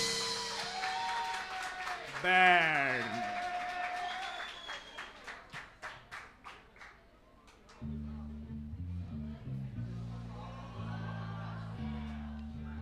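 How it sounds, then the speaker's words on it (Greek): A small audience at a live gig at Ghost House cheers with a short whoop, then claps for the drummer in a brief scattering of applause that fades before the band's music kicks back in, with talk over the start. "Ένα χειροκρότημα για τον drummer που είναι κουραστικός"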